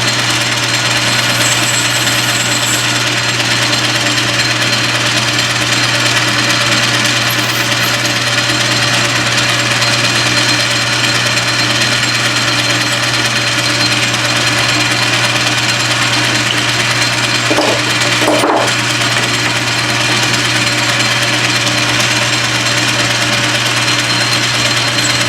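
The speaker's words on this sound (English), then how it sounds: "I'm just using a threading tool as a chamfer tool." A lathe runs continuously while a threading tool chamfers a plastic screw, giving a loud, steady motor hum and whine with a faint cutting noise briefly rising near the end. No one speaks.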